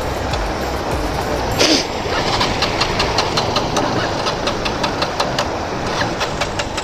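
A motorcycle engine running after a water crossing on a rough mountain off-road trail, a steady mid-pitched idle with a brief louder burst near the start and a rhythmic knocking pulse throughout, close by with no talk.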